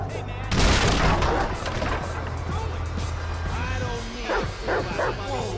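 A dog barking and yipping during a chase in the GTA 5 video game, with a burst of gunfire-like crashing early on and repeated barks toward the end over rumbling game noise.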